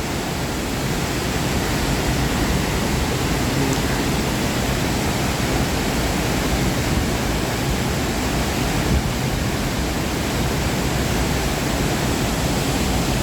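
Haew Suwat waterfall in Khao Yai National Park pours in a dense, even roar of falling water, loud and unbroken from start to finish with no voices.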